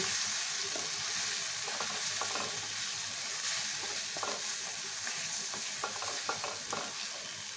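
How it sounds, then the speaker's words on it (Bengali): Onions frying in a pan with turmeric, cumin powder and chaat masala, a dense continuous sizzle with scattered spoon scrapes and stirring taps throughout. "মশলাগুলো দিয়ে আমি পেঁয়াজের সাথে ভালো করে"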